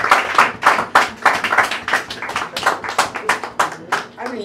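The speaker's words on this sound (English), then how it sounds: "I mean, you guys clap at anything." Scattered audience clapping at an open mic poetry reading, a short burst of uneven, close-sounding claps in irregular rhythm lasting a few seconds.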